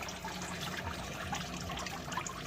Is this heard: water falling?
yes